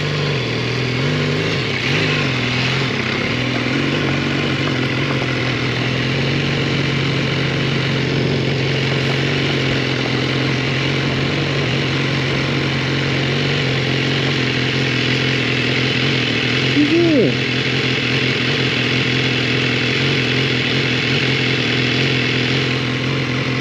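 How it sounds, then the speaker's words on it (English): A big Triumph motorcycle off-road in the British countryside, its engine running steadily and continuously close by with a brief rev partway through. "Gertrude is struggling to get his big fat Triumph through that gap"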